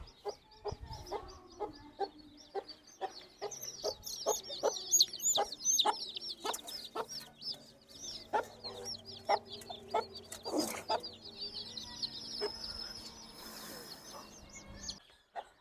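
Country chicks and hens cluck and peep in a farm coop, with a steady stream of sharp high chirps and softer low clucks, fairly close, with no speech.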